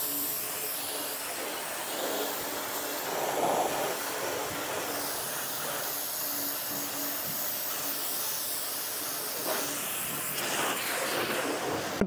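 A portable car washer gives a steady, loud hiss of pressurized water spraying throughout, with slight surges and splashing, close by and without any talk.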